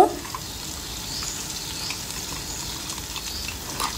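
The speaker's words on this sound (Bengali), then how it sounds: "এই তেলের ভিতরে আগের থেকে যে মশলাটা করে রাখছিলাম এখন আমি ওই মশলাটা দিয়ে দিব" A steady sizzle and bubbling crackle of spice paste for mustard hilsa cooking in hot oil, with occasional stirring scrapes, close and moderately loud.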